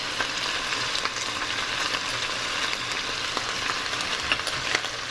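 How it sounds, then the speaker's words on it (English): Diced onion and minced garlic frying and being stirred in a pot, a steady close sizzle with scattered crackles and pops running throughout, no voices. "We're just going to stir this together and let it cook for about 5 minutes"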